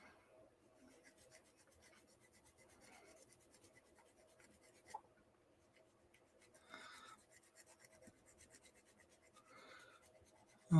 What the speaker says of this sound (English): Oh, the sanding stick seems to work.